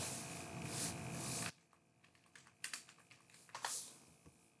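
Computer keyboard typing a search into Google: a loud rubbing burst, then a scattered run of close, crisp key taps in short irregular clusters.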